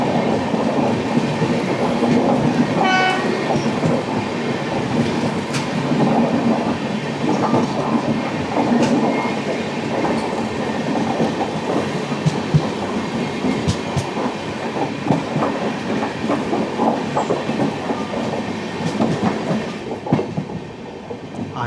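A holiday express train rolls past on the Gujarat line, wheels clattering in a steady clickety-clack with metallic squeals and rattling carriages, loud and close throughout, no voices.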